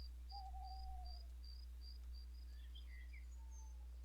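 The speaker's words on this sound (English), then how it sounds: "we can start to hear crickets chirping" Crickets chirp in the video game Lumberjack's Dynasty as evening comes, a faint, evenly repeating series of short, high pulses, with a few separate higher calls joining later over a steady low hum.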